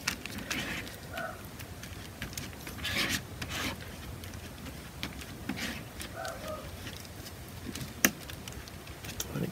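A palette knife scrapes and smashes white and black oil paint together into cold wax medium, giving soft repeated rasping strokes with a sharper tap near the end, close and fairly quiet with no talking.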